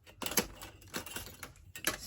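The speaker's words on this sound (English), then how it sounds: "Maybe I'll just use the scissors on this side" Scissors snip through a paper journal card cut from a masterboard, making a quick series of crisp, close cutting sounds in uneven rhythm.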